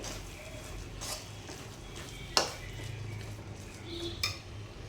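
Coconut laddu mixture stirred in a pan over a low flame: soft, sparse scrapes and occasional metallic clinks of a spoon against the pan, close and fairly quiet, with a low background hum.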